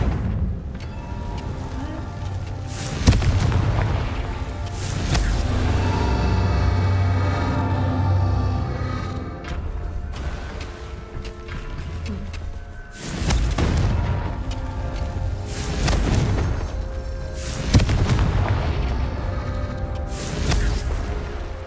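Confringo fire spells blast repeatedly in Hogwarts Legacy, heavy booming explosions at irregular intervals over a rumbling battle backdrop, loud and close with lingering crackle between hits.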